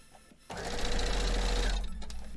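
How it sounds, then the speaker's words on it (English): A sewing machine stitches a quilt block, starting abruptly and then running in a loud, steady mechanical whir for about a second and a half before it tapers off. "Alright, let's sew this."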